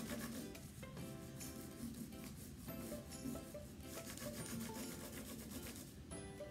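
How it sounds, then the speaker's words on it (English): Crayon rubbed sideways across paper laid over a textured Lego board, making a steady, close scratchy rasp of repeated strokes throughout, with no voices. "I'm going to hold it so that I'm rubbing with the side of my crayon, not the end, but the side"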